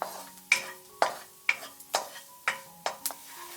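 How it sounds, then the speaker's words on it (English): Chinese sausages frying in a pan over low heat, stirred in a steady rhythm of about seven distinct scraping taps over a soft sizzle, close and clear, with no talking. "Grind the Chinese sausages in a pan over low heat for 5 minutes."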